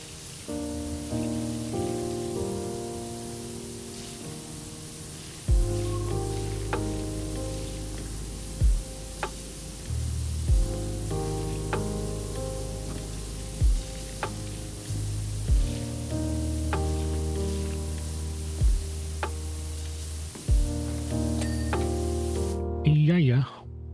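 A pressure washer in PowerWash Simulator blasts rust off a subway platform floor, a continuous hissing spray broken by repeated sharp thumps and bursts over a low background drone.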